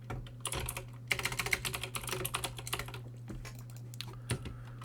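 Rapid, uneven keystrokes on a computer keyboard, close and fairly loud, in bursts with short pauses, over a steady low electrical hum.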